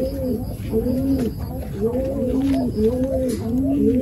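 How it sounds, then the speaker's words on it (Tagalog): Pigeons in training coo repeatedly at close range, the rounded rising-and-falling calls overlapping in a steady series throughout. "Ito mga kalapatids."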